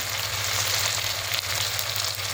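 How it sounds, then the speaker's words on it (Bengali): Fried onion and tomato sizzle in a pan as ginger-garlic paste goes in for an egg curry, giving a continuous, close, even hiss with no talking. "পেঁয়াজ কিন্তু ভাজা হয়ে গেছে, আর তার মধ্যে দিয়ে দিচ্ছি আদা রসুন বাটা"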